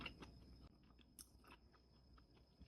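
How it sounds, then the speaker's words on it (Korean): Someone chewing a crunchy slice of raw mullet dipped in chili sauce, faint close-up crunching and wet bites scattered through a quiet room, with no talking. "식감이 아삭아삭하면서 꼬득꼬득한 게 진짜 일품입니다."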